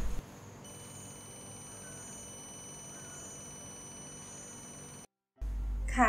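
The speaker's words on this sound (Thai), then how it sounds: "เมื่อมีวัตถุเข้ามาในบริเวณบ้านผ่านแสงเลเซอร์ที่สะท้อนกับกระจกเงาเครื่องจะส่งเสียงสัญญาณเตือนค่ะ" A homemade laser-beam anti-theft alarm built on a GoGo Board sounds a steady, high electronic tone that holds for several seconds, cuts out briefly, then returns with a burst of louder noise.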